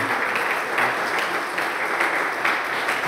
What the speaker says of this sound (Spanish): Un aplauso al Señor por su gran amor.